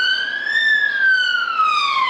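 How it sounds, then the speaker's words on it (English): A wailing siren rises and falls steadily, loud and close, with a clear tonal sweep and faint background hum. "got the sirens going"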